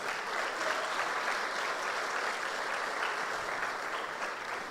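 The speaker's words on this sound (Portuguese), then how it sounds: "Então vamos aplaudir esse Jesus maravilhoso." A church congregation bursts into dense, sustained applause that holds steady and loud for the whole stretch, a continuous wash of many hands clapping together.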